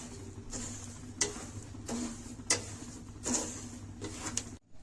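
Salted peanuts are stirred while roasting in a pan, giving a dry, gritty rattle and scrape. The swishes come in regular bursts about a second apart over a steady low hum.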